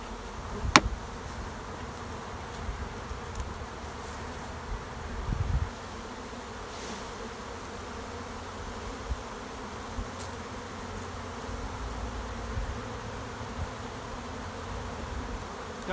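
Honey bees hum in a dense, steady drone around an open hive, continuous and close, with a few faint knocks and clicks of handling.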